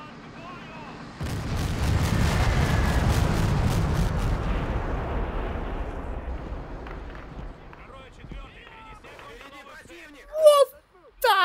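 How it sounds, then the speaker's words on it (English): Airstrike explosions rumble in the World in Conflict video game, a sustained roaring barrage that swells suddenly, then slowly fades into scattered smaller blasts and a few sharp bursts near the end. "Oh, an airstrike. Yeah, I'll have that."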